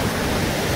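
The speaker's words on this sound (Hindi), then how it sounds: "देखना पानी कितना भयंकर कितना ज्यादा आ रहा है।" Floodwater rushing in a dense, steady roar, loud and close, a continuous broadband wash with no pauses and no voices.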